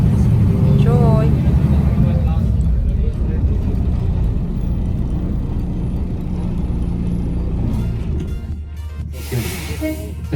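A tour bus drives around Robben Island off Cape Town, its engine rumbling steadily with road noise throughout, a voice talking over it early on and a brief hissing burst near the end.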